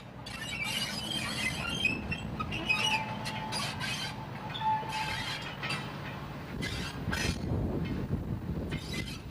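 A recently acquired British Rail Class 03 diesel shunter hauls a brake van over the stump of the Sandown-Newport line on the Isle of Wight, with steady rolling rail rumble, wheel squeal and faint clicks throughout, no talk.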